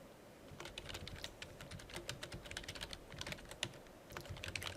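Rapid typing of code on a computer keyboard during a programming lecture, steady close clicking keystrokes in quick irregular bursts with no talking.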